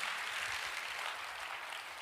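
Church congregation claps together in a steady, dense wash of applause, continuous and fairly even for the whole stretch, with no voices standing out.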